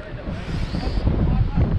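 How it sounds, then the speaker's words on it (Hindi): Strong wind buffets the microphone beside a river in Rishikesh, a continuous low rumbling roar with gusty swells that grow heavier toward the end, with no clear speech over it. "बहुत तेज़ हवा चल रही है बॉस"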